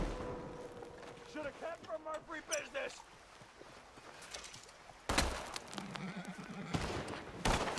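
A horse in Red Dead Redemption 2 whinnies in a rising, wavering neigh early on, followed by game effects including sharp gunshot-like bangs, with talk through much of the scene.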